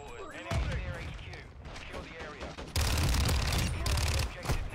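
Gunfire in an online shooter game, dense bursts of shots and a heavy volley midway, loud and close, with a player's voice faintly underneath.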